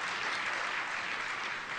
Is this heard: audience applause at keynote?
yes